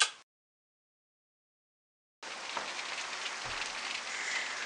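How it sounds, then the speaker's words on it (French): Rain falls outside as a steady, dense patter and hiss that begins abruptly after a stretch of silence and continues evenly at moderate loudness, with no voices. "puis qu'il commence à pleuvoir dehors"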